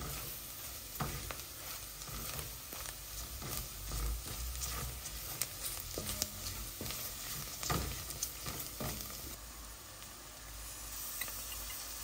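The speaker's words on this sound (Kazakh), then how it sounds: "Осында салып жақсылап қуырып араластырып аламыз." Flour frying with onions in oil in a pot, a continuous close sizzle broken by repeated scraping strokes and taps of a spoon stirring, steady and unvoiced throughout.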